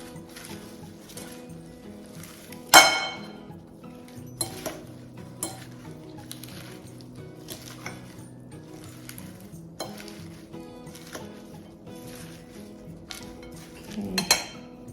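Balsamic vinegar and lemon dressing is stirred in a bowl with a utensil, giving repeated light clinks and taps at a steady rhythm, with louder knocks near the start and end; no talking.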